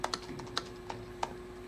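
Typing on a computer keyboard in a movie scene: a handful of sharp, separate key clicks at an uneven pace, fairly close and quiet over a steady low hum, with no voices.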